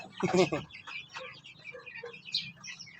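Native chickens, egg-laying hens kept with growing chicks, cluck and chirp softly at close range in short scattered calls, with one brief louder burst at the start.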